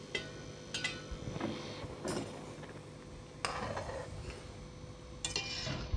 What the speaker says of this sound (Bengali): একটু খুলে একটু নাড়াচাড়া করে দিই